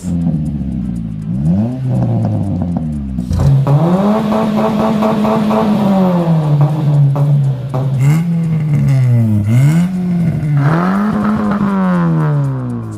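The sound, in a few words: car exhaust revving with deep tone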